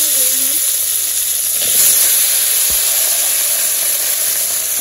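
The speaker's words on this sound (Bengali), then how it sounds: "কড়াইতে তেল দিয়ে দিছি, তেজপাতা দিয়ে দিলাম, জিরা রাঁধুনি সব দিয়ে দিলাম।" Vegetables sizzling loudly in hot oil in a village kitchen pan with bay leaf and cumin, a steady close hiss and crackle throughout with no talk.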